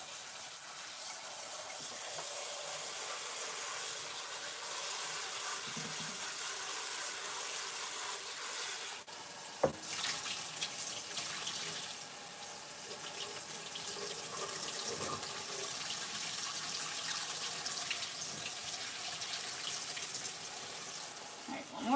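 Farmers market produce rinsed in a strainer under a running kitchen tap: a steady, moderately quiet hiss of flowing water with a sharp knock partway through and faint shifting of the produce.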